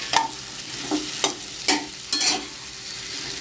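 Potato chutney ingredients frying in hot oil in a pan, a steady close sizzle with several sharp stirring scrapes spaced about half a second apart, no voices.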